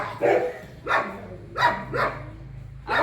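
Puppies barking in a run of four or five short, sharp yaps spaced through the clip, close and fairly loud over a low steady hum.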